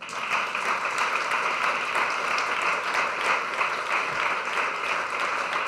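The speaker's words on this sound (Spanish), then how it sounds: "Dele un aplauso al Señor." A church congregation claps for the Lord during a service, a steady dense applause that holds evenly from start to end with no voices over it.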